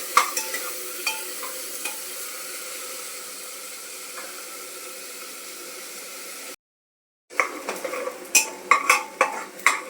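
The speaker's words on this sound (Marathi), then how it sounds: "आता कांदा आपल्याला छान असा गोल्डन कलर मध्ये सोनेरी कलरचा होईपर्यंत परतून घ्यायचा आहे" Onions sautéing to golden for a chicken gravy give off a soft continuous sizzle broken by light spoon clicks; after a short silent gap, louder rhythmic scraping stirs return.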